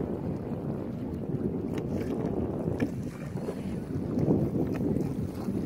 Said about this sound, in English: Spin your kayak around, go with it. Yeah, keep paddling and turn into it.